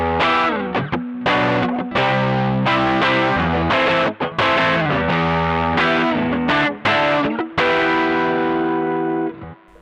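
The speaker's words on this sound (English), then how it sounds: "rolling the drive up so you get the same idea but with a more distorted sound" Electric guitar runs through a Strymon Sunset overdrive with the drive turned up, producing loud distorted chords and single notes in short phrases with brief gaps, ringing sustain and no voice.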